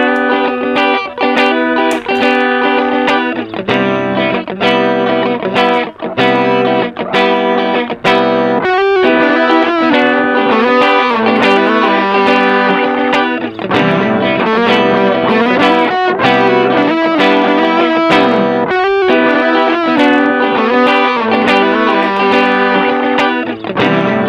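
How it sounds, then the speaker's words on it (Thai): A distorted electric guitar plays a solo with bent notes over a looping rhythmic backing from an Ammoon Pock Loop pedal, loud and continuous throughout. "คราวนี้จะใช้เป็นโซโล่เสียงแตกเข้ามานะครับผม"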